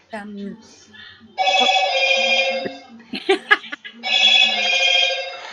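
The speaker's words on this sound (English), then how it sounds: "It's only my phone." A telephone rings in loud repeated bursts, two long electronic trills separated by a short gap, while a person talks over and between the rings.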